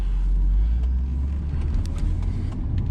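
A 2008 Volvo S80 V8 pulls away with a steady, deep engine rumble, close and continuous for a few seconds with no talking over it.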